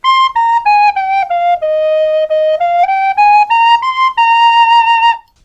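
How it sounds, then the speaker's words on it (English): A tin whistle plays a clear, bright run of notes stepping down and back up, close and loud, with a short breathy chiff at the start of each note and no talking. "chiff is basically the initial sound made by air leaving the mouth of a wind instrument"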